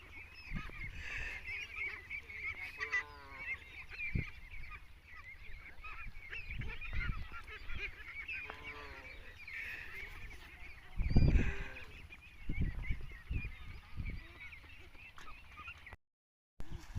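A flock of white ducks honking and quacking repeatedly outdoors on a duck farm, some calls close and loud, others overlapping in the background, with a brief silence near the end.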